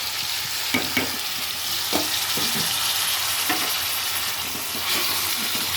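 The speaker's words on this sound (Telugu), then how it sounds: "ఈ ఆనియన్స్తో పాటు ములక్కాయలు కూడా బాగా ఎర్రగా వేగుతాయి." Drumstick pieces and onions fry steadily in hot oil, a continuous close hiss with occasional stirring scrapes and clinks throughout, no voices.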